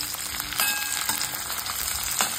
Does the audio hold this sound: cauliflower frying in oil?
yes